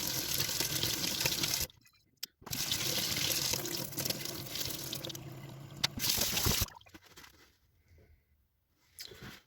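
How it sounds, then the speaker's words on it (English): Tap water runs into a sink to rinse ketchup off an old rusty tool. A loud, steady gush breaks off briefly, comes back, then stops, leaving a quiet stretch with faint drips. "So let's rinse away the ketchup and see what's left."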